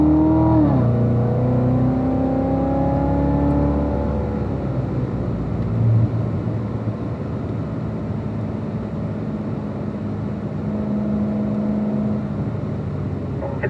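Corvettes on the Spring Mountain track rev up and whir close by, then pass and fade into a continuous rumble of engines running at speed, and no voices are heard.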